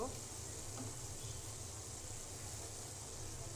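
Chicken pieces deep-frying in a pan of oil, a constant dense bubbling sizzle at moderate level, steady and unbroken throughout with no talk.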